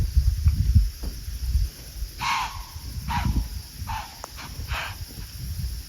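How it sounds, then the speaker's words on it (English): Several sharp, hoarse deer barks ring out one after another from some distance, over a low rumble of wind outdoors. "I've never heard a deer bark."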